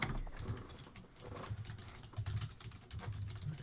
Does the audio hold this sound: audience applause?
no